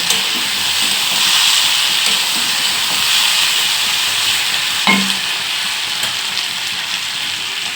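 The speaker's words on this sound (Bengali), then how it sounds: "আলুটা এখানে ভাজা হোক বন্ধুরা" Potatoes fry in a pan for an egg-and-potato dish, giving a loud, steady broadband sizzle that holds evenly throughout, with one brief soft knock midway and no talking.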